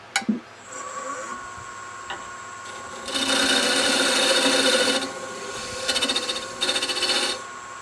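A lathe turning down a spigot for a buffer wheel; a running machine hum is joined by loud bursts of rasping cutting, one long pass followed by two shorter ones.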